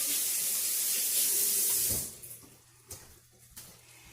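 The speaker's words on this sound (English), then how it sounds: "So I'm just gonna wash my hands here, get the marinara off" A kitchen tap runs at full flow for about two seconds as hands are rinsed of marinara sauce, a loud, steady close hiss that cuts off, followed by a few quiet clicks and drips.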